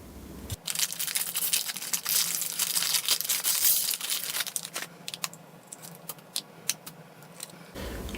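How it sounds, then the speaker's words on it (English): Protective tape peeled off a new HP DeskJet 2855e ink cartridge, giving a close, continuous crinkly tearing and rustling for several seconds, thinning into sporadic crackles and clicks toward the end. "Remove the tape, taking care not to touch the electrical contacts or even the nozzles."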